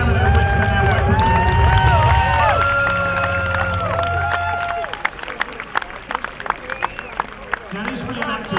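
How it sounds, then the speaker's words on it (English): A crowd at a Viking battle re-enactment by Clifford's Tower at the York Viking Festival whoops and cheers loudly, with applause and shouts that fade into scattered clapping and chatter. "So give them a cheer, ladies and gentlemen, as they gather their wits and their weapons."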